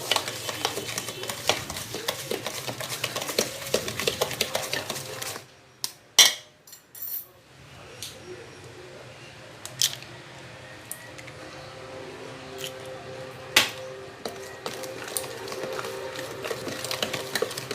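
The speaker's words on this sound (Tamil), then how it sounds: "அதாவது ஸ்பெச்சுலரால், ஒரு வுடன் ஸ்பெச்சுலரால் தான் பீட் பண்ணிக்கொள்கிறேன்." Margarine, sugar and eggs beaten by hand with a wooden spatula for a Sri Lankan butter cake, giving steady soft scraping and squishing strokes against a bowl, close and moderately quiet, with a few sharper clinks along the way.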